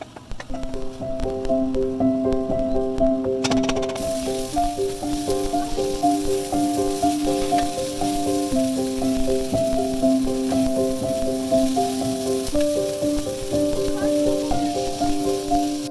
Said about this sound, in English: he's gonna just saute this together